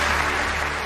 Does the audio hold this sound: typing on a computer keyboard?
no